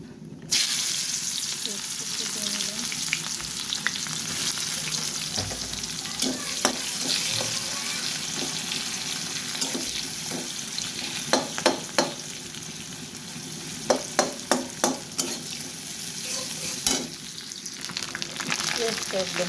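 Fish fry in hot oil in a pan, a steady close sizzle throughout with scattered sharp pops and crackles clustering toward the end.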